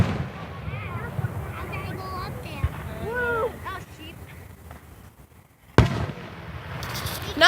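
Fireworks go off over a field, several sharp bursts and crackling pops ringing out at a moderate distance, with a loud broadband blast near the end, while people talk and call out nearby throughout.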